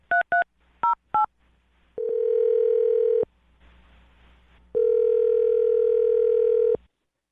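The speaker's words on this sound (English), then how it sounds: "I'm going to dial her phone number and see if we can get her on the phone" A quick run of short dialing beeps, then two long steady tones separated by a brief pause, loud and clear with no talking.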